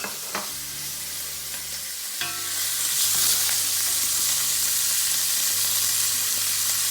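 Lardons frying in a pan over high heat, a loud, continuous close sizzle that builds and holds steady, with a few stirring knocks and a low background hum, no voices.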